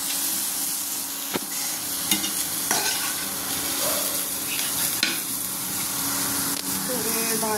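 Mixed vegetables cook together in a pan for bread upma, a steady sizzle with occasional sharp taps and scrapes from stirring.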